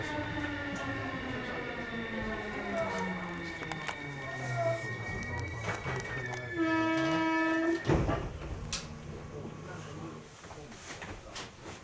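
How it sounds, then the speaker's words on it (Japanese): An E233 series Yokohama Line train makes an emergency stop between stations, with rumbling running noise, a loud tonal brake squeal and a hiss, under an automated announcement. "Caution please, the emergency brakes have been applied."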